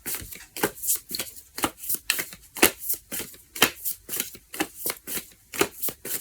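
Tarot cards are shuffled by hand in quick, crisp riffling bursts, about two or three a second in a fairly even rhythm, close and clear with no talking.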